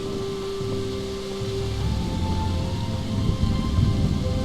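Steady heavy rain hisses throughout in the video game Kingdom Come: Deliverance, with a low rolling rumble of thunder building beneath it and a faint tonal hum in the background.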